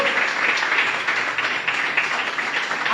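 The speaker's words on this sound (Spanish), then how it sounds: "Dale un fuerte aplauso a Jesús" Congregation at a church service applauding, a steady dense wash of many hands clapping at moderate loudness for the full stretch, with no voices standing out.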